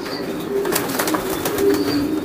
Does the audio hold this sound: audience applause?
no